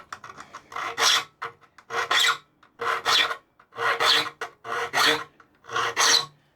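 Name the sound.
hand file rasping a saw held in a hardwood vice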